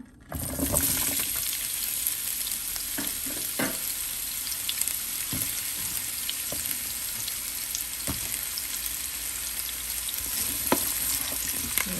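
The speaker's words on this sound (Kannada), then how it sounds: "ಎಣ್ಣೆ ಬಿಸಿ ಆದಮೇಲೆ ಈ ಕಟ್ ಮಾಡಿರೋ ಹಾಗಲಕಾಯಿ ಪೀಸಸ್ನ ಇದಕ್ಕೆ ಹಾಕೋಣ" Cut bitter gourd pieces dropping into hot oil in a pan, a sudden onset of loud, steady frying sizzle that continues close by with occasional sharp crackles and pops, no voices.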